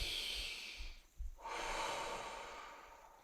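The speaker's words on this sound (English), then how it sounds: "take a nice deep breath" A deep breath drawn during a yoga strength flow class, a long airy inhale close to the mic, a brief pause and catch, then a long steady exhale, with no talking.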